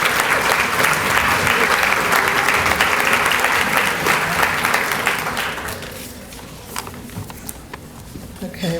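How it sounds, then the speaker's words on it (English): A large audience at a morning celebration honoring women gives a sustained round of dense applause that fades out midway, leaving scattered claps and room noise. "Give them another round of applause."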